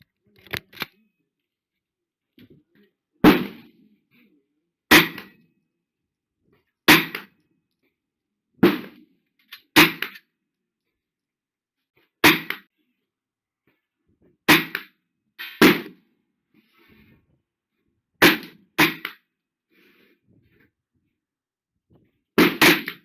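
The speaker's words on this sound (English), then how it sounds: "I noticed that I'm getting some friendly fire coming from down lane at my target" Gunshots at an outdoor shooting range, a dozen or so sharp, loud reports spaced a few seconds apart, each standing alone against near silence.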